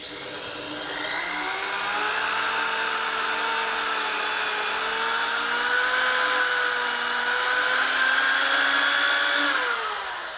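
Electric drill boring out a broken sprocket pulley bolt on a Harley twin cam rear wheel, run at low speed with steady pressure; a continuous loud whine with slowly shifting pitch for about ten seconds, then winding down.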